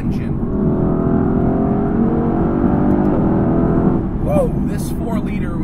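A 4-liter V8 engine in a 2020 Mercedes-AMG GT C drones steadily at close range, rising and falling in pitch as it revs, with brief higher whines near the end.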